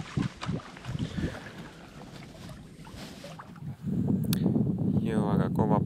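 Strong wind gusts across a wilderness hiking area, a rough buffeting rush that swells louder in the latter half, with people talking over it early on.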